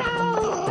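A cat hisses and snarls in one short, loud, harsh burst that sits close and fills the whole moment without any talk.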